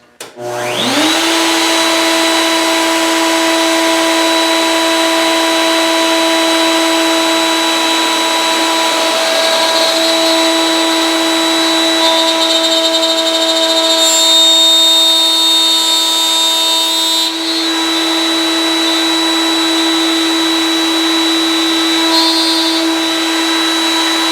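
A router cuts mortises in wood for the upright pieces of a doll-sized bunk bed, a loud, steady motor whine that runs continuously alone with a slight shift in pitch partway through.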